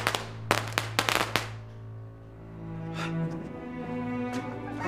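Firecrackers in a wartime drama scene set off a rapid burst of sharp, loud cracks in the first second and a half, followed by a few scattered distant pops over a steady low hum.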